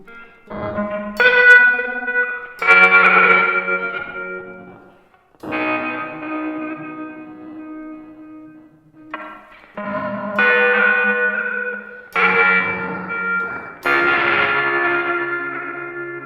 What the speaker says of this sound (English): And some reverb.